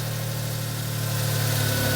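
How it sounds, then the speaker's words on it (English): A Smart ForTwo engine idles at close range with a steady, even hum and a faint mechanical vibration, holding at a constant level throughout with no voices. "There's the engine running"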